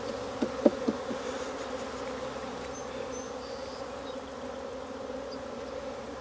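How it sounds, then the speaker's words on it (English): Honey bees buzz in a dense, steady drone around an open hive as a brood frame is shaken, with a few brief knocks near the start. "Go ahead and shake the bees off slightly."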